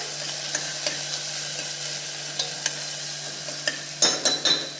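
Turmeric being stirred into frying misal masala in a pan, a constant sizzle with a low hum beneath and scattered spoon scrapes, ending in a few louder clinks and scrapes.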